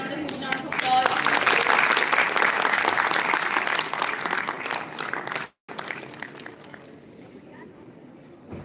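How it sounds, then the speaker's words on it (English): Audience applause at a cyber security event fills the hall with loud, dense clapping that fades out and stops abruptly halfway through, followed by scattered lighter claps and room noise. "Everyone please welcome ma'am with a huge round of applause."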